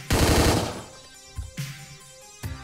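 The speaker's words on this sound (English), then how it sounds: "Whoa! Machine guns." Machine gun fire in the video game Hotline Miami 2 comes as a loud, sharp burst at the start, followed by a few shorter, softer shots spaced apart, with no voices.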